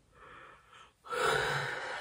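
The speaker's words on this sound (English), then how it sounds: "literally every time I start filming, I have to yawn" A person yawns while filming a fragrance and beauty product haul, a soft breathy intake followed by a louder, drawn-out exhale lasting about a second, close to the microphone with no talk.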